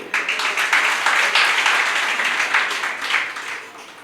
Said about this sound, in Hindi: ये ताली क्यों बजा रहे हैं आप लोग